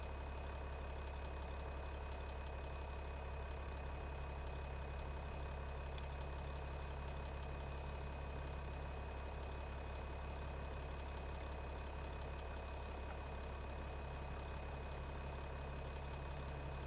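Tractor engine idling in Farming Simulator 25, a steady low rumble that holds evenly throughout at moderate level with no voices.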